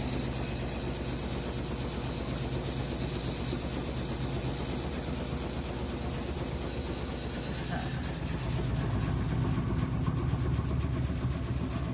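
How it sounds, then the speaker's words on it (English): A faulty Whirlpool washing machine spins with a steady, loud mechanical drone and rattling, continuous throughout and growing slightly heavier toward the end. "It's making new noises too, but still it's spinning."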